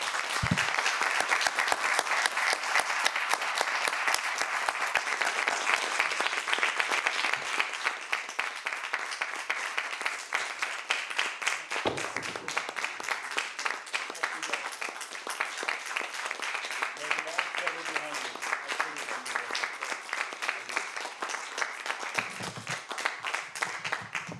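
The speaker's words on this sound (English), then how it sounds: "we will give you the biggest applause this small group of people can give you" A small audience applauds a Freedom of Speech Award winner at a media forum, steady dense clapping sustained for about twenty-four seconds, close and even with no voices over it.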